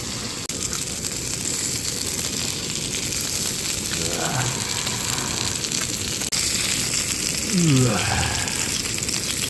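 Pork belly and pork jowl sizzle on a grill with a steady, dense crackling hiss throughout, while a couple of brief voice sounds rise over it.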